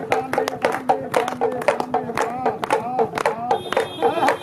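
An audience claps along in rhythm at a live stage show, with crisp, repeated hand claps over music and scattered voices.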